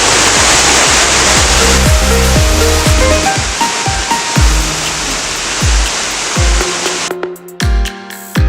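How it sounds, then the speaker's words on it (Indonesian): Waterfall at Mount Rian in North Kalimantan, a loud continuous roar of rushing, splashing water that fills the scene, with some irregular knocks and handling sounds before it cuts off near the end. "Itu dia air terjun"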